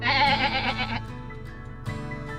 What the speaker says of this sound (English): Just spotted a herd of longhorn sheep there.